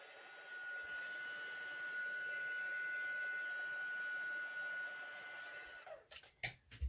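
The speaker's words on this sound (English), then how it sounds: "heat embossing, some people get really intimidated by it" Heat gun melting silver embossing powder for heat embossing on a card, a soft, steady blowing whir with a faint tonal whine that runs for several seconds, then cuts off into a few quiet handling knocks.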